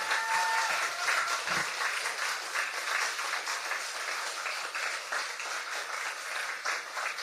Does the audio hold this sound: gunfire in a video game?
no